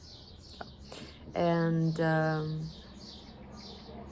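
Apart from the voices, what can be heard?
birds chirping outside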